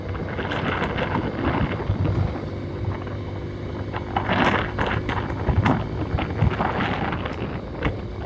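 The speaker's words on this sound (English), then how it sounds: "There's a lot of wind blast." Steady roaring wind buffeting across the microphone while riding a Honda Hornet 160 motorcycle, a continuous loud rush with occasional gusty swells and no talking.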